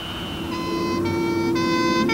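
An ambulance siren passing by, its repeating two-tone wail rising in steps over road noise, fairly close and loud with no voices.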